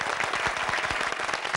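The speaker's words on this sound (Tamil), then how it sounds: "இங்க வந்திருக்கிற நண்பர்களுக்கும் சிறப்பு விருந்தினருக்கும் முதல்ல ஒரு பெரிய கைத்தட்டல்கள் கொடுத்துக்கிறேன் நானு" Audience applause at a Tamil television talk show, a dense burst of many hands clapping close and steady throughout, without speech.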